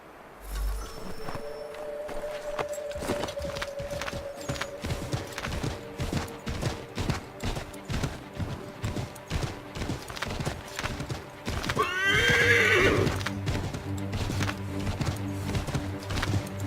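Horse hooves clip-clop steadily through a scene in Assassin's Creed 3, with a brief whinny and rising commotion near the end, heard without talk.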